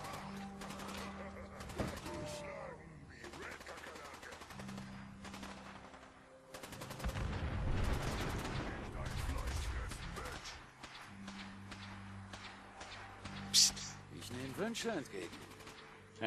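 Gunfire in the video game Fallout 4: sharp single shots and rapid bursts, with a denser volley in the middle, set against game ambience and someone talking over parts of it.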